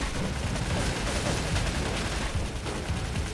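Dense, continuous bursts of automatic gunfire from enemies in the StalCraft shooter game, a loud, unbroken wall of rapid shots with no pauses.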